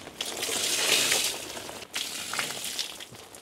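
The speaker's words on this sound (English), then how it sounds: "I'll show you how much water it's collected" Rainwater pours and splashes steadily off a canopy during a storm, a loud, broad rushing gush that briefly dips and then resumes, with no talking.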